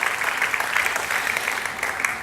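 Congregation clapping at a bilingual Spanish-English church service, a lively, fairly loud run of applause with a few sharper claps standing out.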